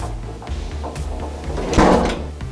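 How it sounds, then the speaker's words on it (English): Doors at the base of a fire station pole swing open under a firefighter's body weight, giving a mechanical clunk and rattle that swells midway through a steady low rumble of station noise. "So once I put my weight on it, it opens the doors."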